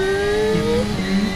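Formula race car engine in a VR racing simulator, a brief whining high-pitched note sliding as the revs change over a steady rushing road and wind noise.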